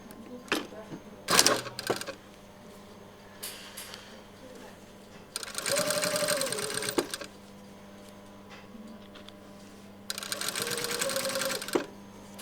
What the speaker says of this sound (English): So we're now going to stitch along here, up there, down here and across.